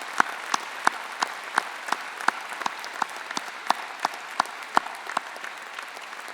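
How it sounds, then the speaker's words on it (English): Graduation audience at a Swinburne ceremony applauding the university staff, a spread of distinct claps at a slowish, uneven rhythm under a soft wash of crowd clapping, sustained for several seconds without talk. "Graduates, would you join me in a round of applause to thank the Swinburne staff?"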